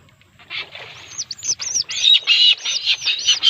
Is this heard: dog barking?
no